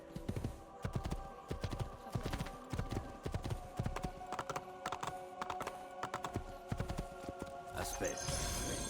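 Horse hooves clop in a steady, galloping rhythm in the video game Assassin's Creed II, close and continuous under a dense layer of game sound, with voices mixed in.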